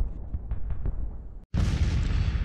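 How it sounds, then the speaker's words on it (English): Artillery fire during a Civil War battle in Grand Tactician: Civil War, a dense, continuous roar of distant cannon booms with a brief silent gap, then a louder, sustained rumbling barrage. "The artillery duel continues"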